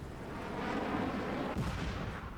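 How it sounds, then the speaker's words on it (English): An F-16 airstrike hits a militia in the Afghanistan 11 war game, a dense, sustained rumbling blast that swells and stays loud for about two seconds with a sharp burst near the end. "So we're going to call our F-16 airstrike on the other militia."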